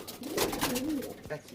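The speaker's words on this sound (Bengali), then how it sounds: "এর ভিতরে কিছু আন্ধ্রা পায়রা আছে, কিছু মালবাই পায়রা আছে" Andhra and Malbai pigeons coo softly inside a loft, with a short, low, rolling coo from nearby and a faint voice in the background.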